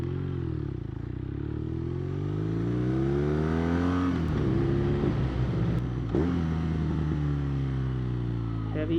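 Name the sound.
BMW R nineT motorcycle engine braking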